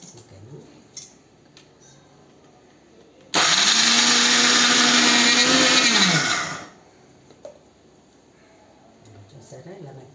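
A mixer grinder whirs loudly for about three seconds while blending a jaggery mixture, starting and stopping abruptly, with quiet kitchen clatter and a voice heard before and after.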